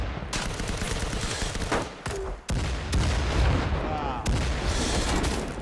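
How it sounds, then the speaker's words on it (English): A grenade blast and rolling bursts of automatic gunfire in a first-person shooter game, loud and dense throughout with sharp booms, a brief dip midway, and a player's voice exclaiming amid the combat. "Oh, grenade."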